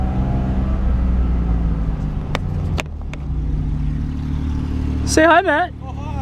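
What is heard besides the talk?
BMW F82 M4 with burble tune, loud exhaust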